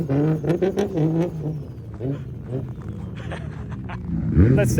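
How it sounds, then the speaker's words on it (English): Nissan Skyline GT-R, an R32 or R34, idles with a loud, deep engine rumble that swells toward the end, with people talking over it. "Oh, this car sounds so good!"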